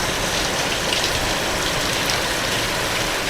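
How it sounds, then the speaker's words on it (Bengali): Steady afternoon rain falls outdoors, a dense, even wash of broadband patter that stays loud and continuous with no breaks and no voices. "কত সুন্দর বৃষ্টি।"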